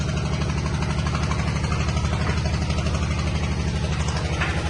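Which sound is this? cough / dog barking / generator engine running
generator engine running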